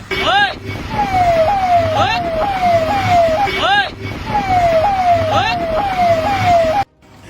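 An emergency siren sweeps up repeatedly in quick cycles behind a tractor-trolley racing at full speed in Uttar Pradesh, India, over road and engine noise, loud and close, cutting off abruptly near the end.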